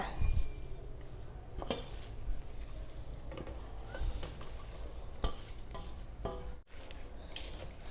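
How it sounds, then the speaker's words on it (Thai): A spoon stirs chopped vegetables, herbs and spring onions into a catfish mixture in a pot, scraping and clinking steadily against the sides, close and continuous with a soft wet shuffle. "คนให้ส่วนผสมมันเข้ากันดีๆจ้า"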